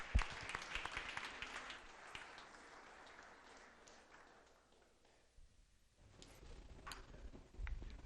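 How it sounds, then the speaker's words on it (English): Audience applause for a presenter stepping up at a startup demo day, a quiet crowd clapping that thins and fades in the middle before scattered claps pick up again. "Big round of applause for Kaylin."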